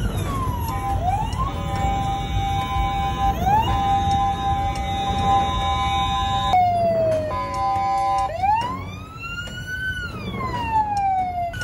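An emergency siren wails and yelps from a vehicle stuck in a Nairobi traffic jam, loud and close, sweeping up and down in repeated cycles over steady street noise with no talk.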